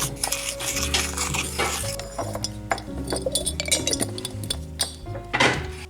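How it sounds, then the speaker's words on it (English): Cinnamon and sugar mixed in a bowl, bright repeated clinks and scrapes of a utensil against the bowl in an uneven rhythm, close up and alone. "In this bowl, we have just a little bit of cinnamon and sugar. And mix that together."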